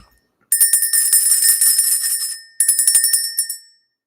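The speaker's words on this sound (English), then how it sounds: "Let's ring the bell, of course." A handbell rung in a spiritual reading session, with two bursts of rapid, bright, shimmering strikes, a long ringing run and then a shorter one after a brief pause, loud and close.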